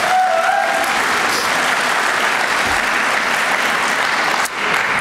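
Audience at a graduate awards ceremony claps steadily, a dense, loud, even roar of applause filling the hall and holding throughout before thinning slightly at the end.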